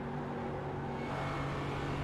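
A GT4/TCR race car engine at Lime Rock Park holds a steady, dense roar for the full two seconds, close and loud with no gaps or speech.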